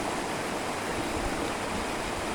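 A roadside waterfall swollen with rainwater pours in an unbroken, dense rushing roar, steady and close with no pauses.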